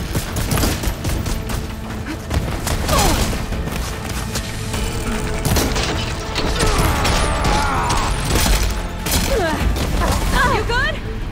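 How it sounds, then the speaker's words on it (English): A cannon fires repeatedly in Horizon Forbidden West, with loud booming blasts and crashing impacts amid busy combat noise, and a voice shouting over the action. "I love this cannon!"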